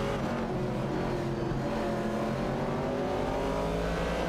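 Race cars, a Ford Falcon and an AMC Javelin 70, battle in a racing video game, their engines a loud, continuous, close drone with rising revs and overlapping tones as they run side by side.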